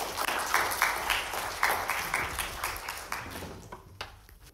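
Applause welcoming a speaker at a university public physics lecture in China, fairly quiet clapping in uneven bursts that thins out and fades near the end.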